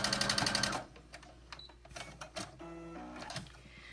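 A sewing machine stitches a quilt block seam in a steady whirring burst up close, then stops for a pause filled with small handling clicks and faint mechanical taps.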